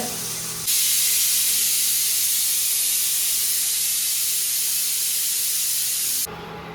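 A loud, steady steam hiss jets out for several seconds from a pressure cooker whistle cooking beef, starting and stopping abruptly.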